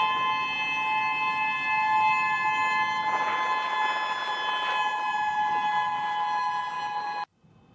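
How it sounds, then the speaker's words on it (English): Sirens wailing after an earthquake in a Russian district: sustained, steady tones holding at several pitches for about seven seconds, fairly loud and distant-sounding, then cutting off abruptly. "even as the sirens were heard"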